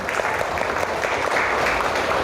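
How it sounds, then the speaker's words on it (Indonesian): Applause from a class audience at the close of a school lesson, a dense steady wash of many hands clapping together with no break, fairly loud and close throughout. "Tepuk tangan untuk kita semua hari ini."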